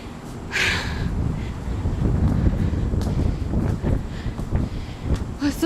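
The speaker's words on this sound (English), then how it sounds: "Oh, so windy." Strong wind buffets an outdoor microphone high up on a rainy day, making a continuous loud low rumble for the whole stretch with brief gusty swells and only faint traces of voices.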